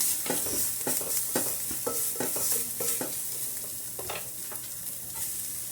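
Cumin, turmeric and coriander powders with fresh coriander are stirred in a frying pan: a continuous sizzle with repeated close scraping strokes of the spoon.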